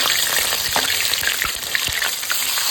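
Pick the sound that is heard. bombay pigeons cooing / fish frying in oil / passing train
fish frying in oil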